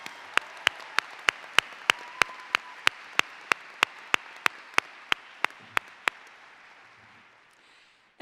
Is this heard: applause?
yes